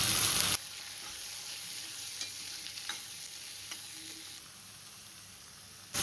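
Green chilies and finely chopped onions frying in a pan for rice upma, a steady soft sizzle with a few faint stirring clicks, heard alone at close range.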